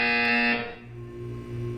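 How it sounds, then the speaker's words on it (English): A loud, steady electronic buzzer tone from the Portal 2 video game sounds for about half a second, then cuts off, leaving a low hum and quiet room tone behind. "You will hear a buzzer."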